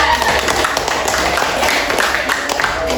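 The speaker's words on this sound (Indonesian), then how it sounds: "Oke, silakan tepuk tangan." Students in a classroom applaud a classmate's answer during a history lesson: dense, steady clapping fills the room, loud and close, with some background noise and faint voices underneath.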